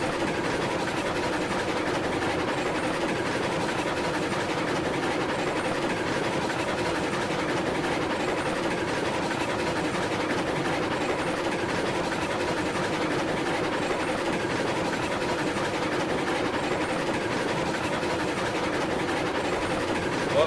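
A locomotive train running in the video game RailRoads Online, a continuous even rumble with a faint rhythmic clatter of wheels, steady and unbroken throughout with no talk.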